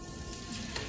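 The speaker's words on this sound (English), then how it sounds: "you're going to take your rice noodles, which you've separated into individual long noodles, and just dump all of that into" Rice noodles hit a hot pan and sizzle loudly and steadily, a dense frying hiss up close with no voices.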